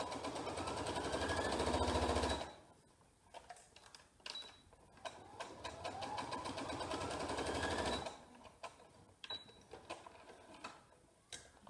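Sewing machine stitching the shoulder seams of a garment, a loud fast run at the start followed by quieter intermittent stitching and a second steady run, close by with no talk.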